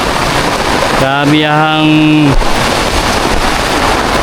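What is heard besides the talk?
heavy rain pouring on crops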